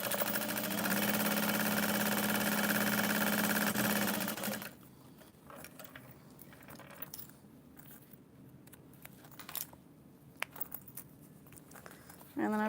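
Sewing machine basting stretched fabric pieces together for a small Louie bag, running in a loud steady whir for about four seconds, then stopping; quiet handling noises follow.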